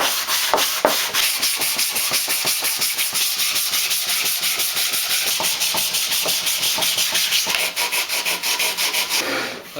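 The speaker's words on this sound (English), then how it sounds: "I've got it sanded down really nice and smooth." Continuous fast rubbing of sandpaper over a small wooden jewelry box, loud and steady with a rapid scratchy back-and-forth rhythm throughout, alone without any talk.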